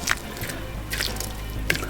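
A little water trickles and drips into a chicken and breadcrumb sandwich-filling mixture, a few brief, soft splashes at close range in an otherwise quiet kitchen.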